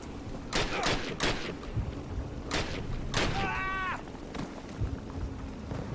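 Machine gun fire rings out in the first Call of Duty video game as several sharp bursts of rapid shots, mixed with game noise and a brief shouted voice.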